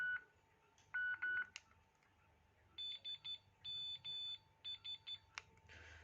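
The standard ringtone of a Nokia 6016i phone: a choppy series of electronic beeps in short clustered bursts with gaps between groups, played close and loud with faint background noise.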